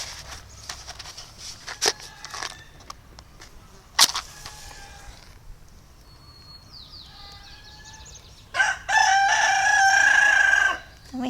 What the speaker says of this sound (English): We have an absolutely beautiful rooster,